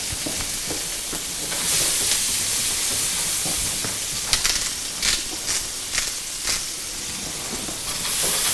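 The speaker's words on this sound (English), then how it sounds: "How long should the asparagus fry in the butter for?" Asparagus frying in butter in a pan: a continuous close hissing sizzle with crackling spits and a few light utensil taps as it cooks, no talking.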